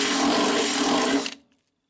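A drill bores 8 mm holes in a Citroën Traction 11 pedal bracket, a steady loud whine that stops abruptly after about a second and a half.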